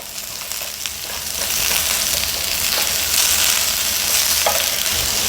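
Zucchini fries in a hot pan over medium-high heat beside a filet mignon, giving a steady close sizzle with occasional stirring sounds and no talking.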